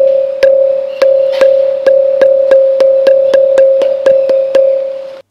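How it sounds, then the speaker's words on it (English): Quick, steady strikes on a musical stone pillar give a rapid run of about a dozen bright metallic rings over a constant humming tone, close and loud, much like a school bell. "And here is a sound similar to a school bell."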